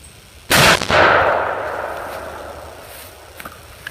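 A single sharp, loud gunshot from an 1895 Winchester big-game rifle chambered in .405 Winchester, color case hardened, fired outdoors. A long echoing decay follows, with a faint second report close behind.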